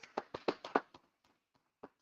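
Scattered clapping from a small church congregation, a handful of sharp, close claps at first that thin out into a few isolated claps in quiet.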